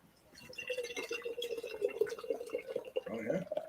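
Sour beer at 6.5% ABV, shaken and rolled beforehand, pours in a steady gurgling stream with a few drips, close and fairly quiet, while a voice talks over it.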